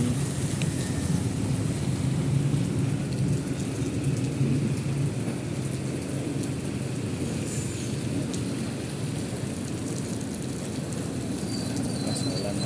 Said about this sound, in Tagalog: ulan na lakas na ulan